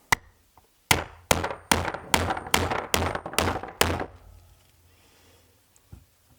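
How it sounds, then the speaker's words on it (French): Punch tool struck with a hammer to pierce fabric set over a backing block, about eight sharp, evenly spaced thuds in a steady rhythm, close and clear, then quiet. "Je frappe jusqu'à avoir le trou."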